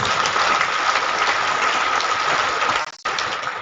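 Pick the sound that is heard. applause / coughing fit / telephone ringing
applause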